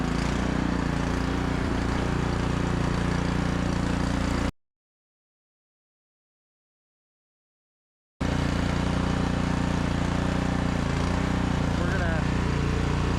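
A Cub Cadet Stage 3 snow blower, model 31AH5DVA710, runs in gear with a steady, loud engine drone that cuts out to silence for a few seconds midway, then resumes.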